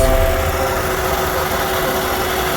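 A car's air-conditioning compressor and radiator fan running together, a loud, steady close-up whirring drone with a faint tonal hum and no break.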